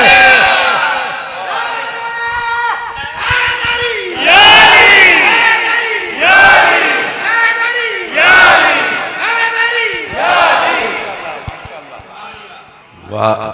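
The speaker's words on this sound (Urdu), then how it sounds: "تسی نعرے بھی مار دے ہو" A crowd at a religious Muharram gathering loudly chants slogans in unison, several bursts of massed voices rising and falling in a steady call-and-response rhythm, near and powerful.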